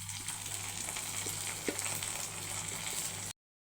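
A tempering of dried red chilies, curry leaves and seeds fried in a little oil is stirred into a ridge gourd curry, giving a soft, steady sizzle with faint spoon scrapes before cutting off abruptly.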